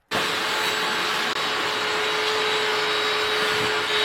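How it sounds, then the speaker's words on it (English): A vacuum cleaner runs steadily and loudly on the floor of a used Sprinter van from start to finish, a continuous whining roar with a brief dip partway through. "here is Carol using a vacuum cleaner on the floor of a used Sprinter van."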